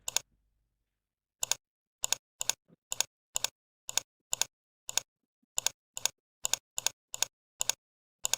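Computer keyboard keys are struck in short clustered bursts, roughly a dozen quick pairs of crisp clicks spaced about half a second apart, close and distinct against near silence.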